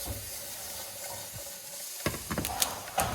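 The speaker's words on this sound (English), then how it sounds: "You can already hear the sizzling." Serrano peppers sizzle quietly in a hot pan, a soft steady hiss broken by a few sharp crackles and stirring clicks toward the end.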